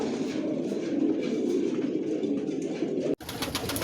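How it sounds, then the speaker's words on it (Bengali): Adult Janssen line racing pigeons, original long-distance racers, coo in a steady, continuous low murmur that holds close and even before a brief break near the end. "এখানে সব অ্যাডাল কবুতর"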